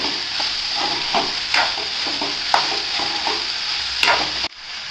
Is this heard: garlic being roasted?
yes